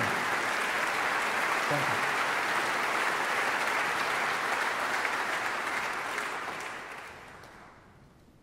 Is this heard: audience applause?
yes